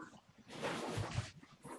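A dog gives a low, soft growl, faint and close, rising in a short rumbling burst over a quiet room.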